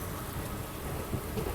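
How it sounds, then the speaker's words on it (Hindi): Heavy monsoon rain pours at a railway junction station during a Sealdah–Ballia Express journey, a dense, continuous roar with soft rumbling underneath and no voices. "ज़बरदस्त बारिश जो है वो हो रही है।"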